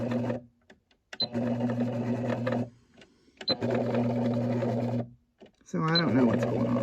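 An electric motor on farm equipment that fails to engage hums in steady buzzing bursts that start and stop, separated by short silences, with faint clicks at the start of each burst and a voice near the end.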